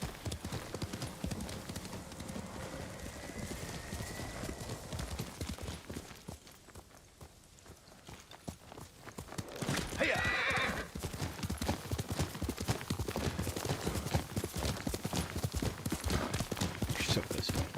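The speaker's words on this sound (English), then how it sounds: "There's a horse." Horse hooves clip-clop steadily and closely in the samurai video game Ghost of Tsushima, a brief whinny rises midway, and the galloping rhythm returns louder while someone speaks at times.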